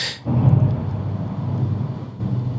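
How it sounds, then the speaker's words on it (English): Deep rumbling thunder from a lightning storm rolls in after a brief lull, sustained and heavy for a couple of seconds with a second swell near the end. "You're going to hear the thunder in a second."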